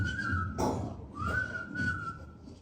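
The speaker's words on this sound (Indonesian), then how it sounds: "Saya akan selalu bersiul." A person whistles a tune alone, holding long steady notes with short pauses between phrases, fairly close and moderately loud.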